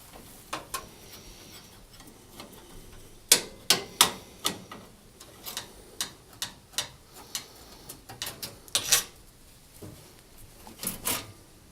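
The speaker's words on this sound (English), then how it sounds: "remove the grill vent at the back of the cooker by undoing the 6 screws" Screws being undone on the grill vent at the back of a Rangemaster cooker, heard as scattered sharp metallic clicks and taps at irregular intervals over a quiet background.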